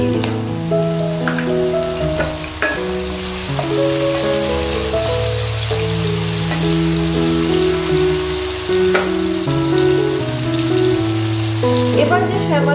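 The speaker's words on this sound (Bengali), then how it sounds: "মিডিয়াম ফ্লেমে একটু ভেজে নেওয়ার পর এর মধ্যে আমি 1/2 টেবিল চামচ মতো গ্রেট করা আদা দিয়ে দিচ্ছি।" Grated ginger and green chillies fry on a medium flame with a loud, continuous sizzle, a few scraping stirs mixed in, and no one speaking.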